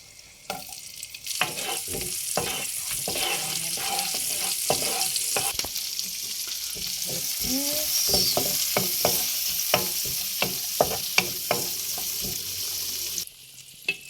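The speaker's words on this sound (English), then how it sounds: "So we have to saute first the onion." Onion sautéing in a pan at home, a loud continuous sizzle broken by repeated sharp clinks and scrapes of a utensil stirring, which ends abruptly near the close.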